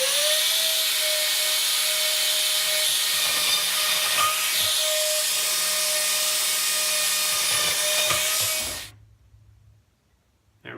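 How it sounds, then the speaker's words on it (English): A router fitted with a 1/4 inch bit bores holes in a wooden guitar speaker cabinet panel, a loud steady high-pitched whine and rushing hiss running continuously for about nine seconds before cutting off abruptly into near silence. "I'll get them drilled out with the 1/4 inch bit on the router."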